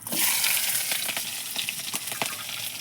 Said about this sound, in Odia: ଭାଜିଦେବା, ପିଆଜ ଭାଜିଦେବା